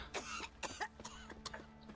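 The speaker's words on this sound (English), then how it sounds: "She just coughed on me." A woman coughs in several short, harsh bursts in quick succession, close and fairly loud, over a low background hum.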